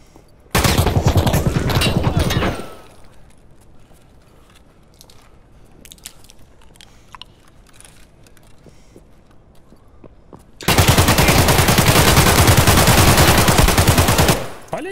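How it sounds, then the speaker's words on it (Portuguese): Automatic gunfire in the Escape from Tarkov video game, two long, loud, dense bursts, one about two seconds and a later one about four seconds, separated by quieter background sound. "O tanto de tiro que o cara tomou."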